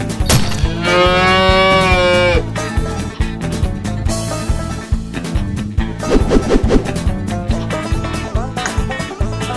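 A cartoon cow in the video game Run Cow Run lets out a long, loud moo near the start over busy game music and crashing effects, followed by a shorter bovine call later in the stretch.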